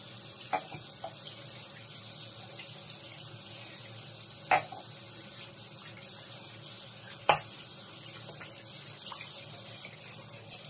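Tap water runs steadily throughout as a polymer clay mug is washed, with a few faint clinks and knocks of it being handled in the stream. No one talks.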